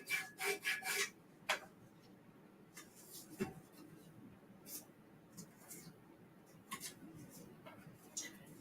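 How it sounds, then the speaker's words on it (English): A squeegee rubs sublimation paper against a 20oz tumbler, giving soft close scraping and rubbing strokes, a few sharper swipes early then quieter intermittent friction sounds. "I'm just going to go over this with my squeegee"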